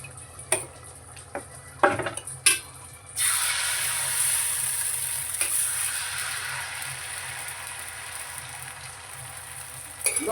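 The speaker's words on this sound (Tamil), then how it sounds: "போட்டு கிளறி விட்டுட்டு இப்போ நம்ம வந்து தோசை ஊற்றிடலாம் ஃப்ரெண்ட்ஸ்" Lamb intestine curry stirred in a pan, then dosa batter poured onto a hot stone pan: a few scraping knocks give way to a steady loud sizzle and hiss that runs to the end.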